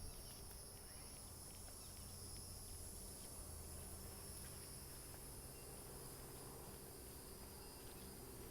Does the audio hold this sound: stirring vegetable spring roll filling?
no